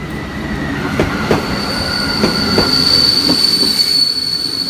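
A TLK Zamoyski passenger train rolls past nearby as it arrives, with rhythmic clacking of wheels over rail joints and a high, steady squeal above the rumble.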